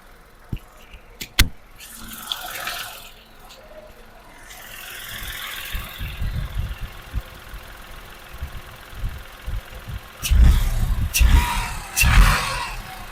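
A Tata Punch facelift engine idles low, then revs in several rising bursts, with clicks and a mechanical whir early on.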